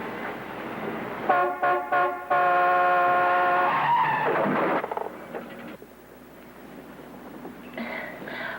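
Car tires screech in a long, loud skid as the driver's foot slips off the brake, with a few short squeals before the main sustained screech and a fading rumble after it.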